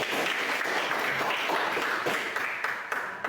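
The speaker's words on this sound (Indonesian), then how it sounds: "Tepuk tangan untuk." Applause from a classroom or school gathering in a teacher coaching session, a steady wash of clapping sustained evenly throughout and fading slightly toward the end.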